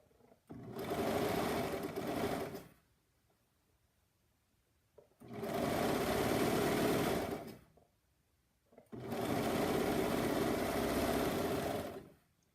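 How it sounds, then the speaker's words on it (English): Sewing machine stitching the shoulder seams of pajamas, three separate steady bursts of whirring motor noise with short silent pauses between them, close and clear. "Then I'm going to sew up the shoulders."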